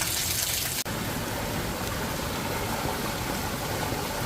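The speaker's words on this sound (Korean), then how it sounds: "바람하고 비가 너무 많이 와서 바람도 너무 불어서" Heavy rain and strong typhoon wind make a dense, loud, unbroken roaring wash that fills the whole clip, dropping out for an instant near the start.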